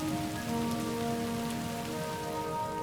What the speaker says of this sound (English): water started forming clouds, which finally rained down onto the surface of Earth